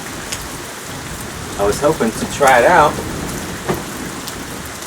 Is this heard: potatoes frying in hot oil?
no